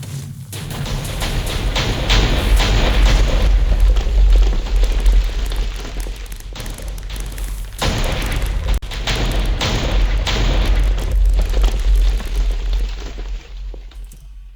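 Repeated cannon blasts launching fireworks in a block-building video game, a dense barrage of booms and crackling bursts running almost continuously, with a short pause midway before the volley resumes.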